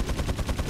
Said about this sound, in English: it's shotgun